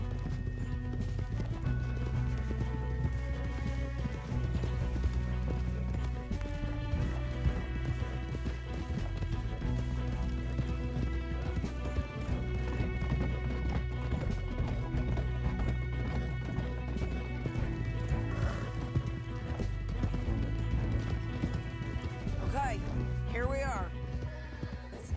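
Horses galloping in the video game Red Dead Redemption 2, a steady clip-clop of hooves running throughout under music and characters talking, with a brief whinny near the end.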